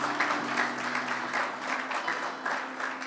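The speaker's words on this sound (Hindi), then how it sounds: "थोड़ा ताली बजा दो प्रभु के लिए" A church congregation claps for the Lord, a steady patter of many hands in a reverberant hall, moderately loud and continuous, with a low electrical hum running beneath it.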